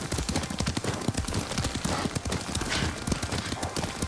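Steady, rapid clip-clop of horse hooves on a mount ridden through the game Ghost of Tsushima, close and continuous with busy game ambience underneath and no talk.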